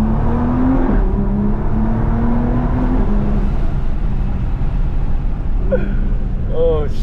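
A Nissan GT-R running on E85 fuel accelerates hard from the driver's seat, its engine drone climbing steadily with brief dips at shifts, loud and continuous, with a voice briefly audible near the end.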